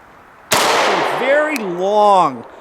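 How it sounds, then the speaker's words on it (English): A single sharp shot from a 9mm HK P30SK pistol fired in double action, a loud close crack followed by a ringing tail while someone talks over it. "I'm going to fire a few rounds in double action."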